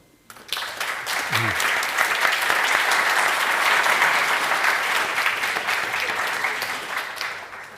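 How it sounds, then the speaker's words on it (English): Applause from the audience for a panel speaker at a forum on Ukraine in Vienna, starting abruptly after a brief murmur and holding as a full, even roar of clapping before easing slightly toward the end. "I think you also have deserved a big applause."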